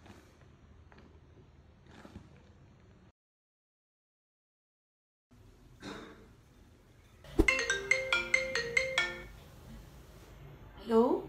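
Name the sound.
phone ringtone ringing, unanswered call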